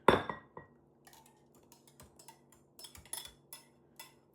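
Cream cheese and pudding being stirred in a bowl, giving a clear clink of a utensil against the dish, then scattered light taps and scrapes, close and quiet.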